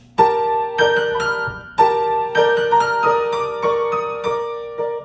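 Piano chords from a NieR Automata track struck in a steady rhythm, each one ringing and decaying before the next, a short clean passage with no talking.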